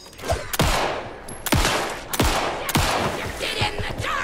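Four sharp, loud pistol shots ring out about a second apart in Alan Wake 2, each with a quick decaying tail, followed by softer scattered thuds.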